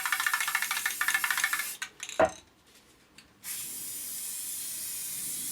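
Aerosol spray-dip coating is sprayed onto a fender in heavy coats, a steady close hiss in bursts that pauses for a moment of near silence and then resumes as a continuous spray.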